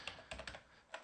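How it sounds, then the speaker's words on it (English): Someone types on a computer keyboard while setting up a VPN server: a handful of soft, close key taps in a short irregular burst, quiet, with no talking. "And here we're going to need to type in server."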